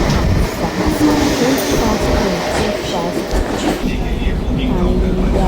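A Mumbai suburban train rumbles loudly and continuously along the line with rattling wheels and clatter, close by, with faint voices mixed in.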